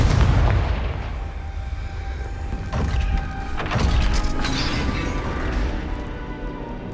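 A Confringo blasting spell from the Hogwarts Legacy video game goes off with a loud booming explosion at the start, followed by a rumbling, crackling burst of debris and a second swell of blast noise that slowly fades.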